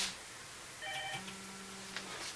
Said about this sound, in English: Oh, I'm ringing over here. Let me turn that off.